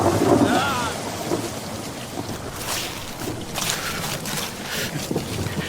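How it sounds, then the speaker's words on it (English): A violent thunderstorm with heavy rain pouring steadily and loud, rumbling thunder rolling through, filling the whole scene as a continuous dense roar with no voices. "It's a hell of a storm, isn't it?"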